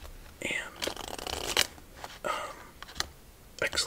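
A deck of playing cards is shuffled up close in a quiet room, with crisp riffling bursts and soft flicks in an uneven rhythm, and faint soft speech mixed in.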